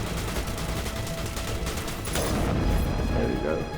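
Rapid gunfire from a squadmate during a firefight in Mass Effect Legendary Edition on PS5, a steady dense volley running the whole time at mid distance, with other game sounds mixed underneath.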